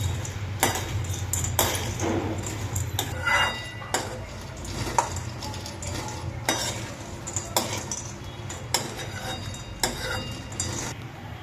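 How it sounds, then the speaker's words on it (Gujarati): Mango seed mukhwas fries in desi ghee under a soft, steady sizzle, while a spoon stirs and clinks against the pan in frequent sharp taps. "તો ચાલો સરસ રીતે તેને દેશી ઘીની અંદર તળીને તૈયાર કરી લઈએ"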